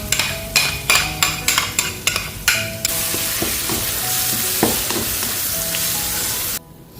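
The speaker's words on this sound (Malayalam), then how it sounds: "ഇതൊരു ഗോൾഡൻ ബ്രൗൺ ആവുന്ന സമയത്ത് നമ്മൾ നനച്ച് വെച്ചേക്കുന്ന മസാലയും കൂടി ഇട്ട് നന്നായിട്ട് ഇളക്കണം." Masala sautéing in hot oil for a Kerala fish curry, a steady loud sizzle with a run of rhythmic scraping stirs near the start, then continuous frying hiss that cuts off near the end.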